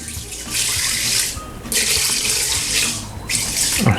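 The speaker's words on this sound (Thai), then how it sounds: "หลังจากนั้นเราก็จะเติมน้ำลงไปให้พอท่วมนะครับ" Water is poured from a tap into a pot of mung beans in a close, steady splashing rush that pauses briefly and resumes twice.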